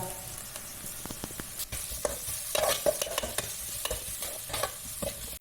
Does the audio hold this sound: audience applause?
no